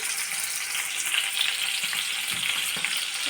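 Homemade paneer frying lightly in a pan, a steady close crackling sizzle with a few soft clicks and knocks, heard alone without speech.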